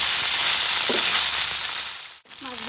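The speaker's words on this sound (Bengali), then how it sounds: "দুটো পিস আমি মাছগুলিকে একটু লাল করে ভেজে নেব।" Rohu fish pieces fry in hot oil, giving a steady, loud close sizzle with occasional stirring, which briefly dips near the end before resuming.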